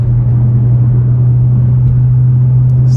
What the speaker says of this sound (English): Hear those turbos spooling up.